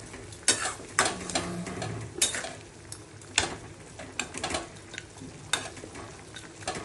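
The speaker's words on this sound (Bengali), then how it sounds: "জল দিয়ে দিচ্ছি।" Prawn and jackfruit seed curry simmering in a pan as water goes in, with a soft bubbling sizzle and repeated scraping stirs and light clinks of a spoon against the pan.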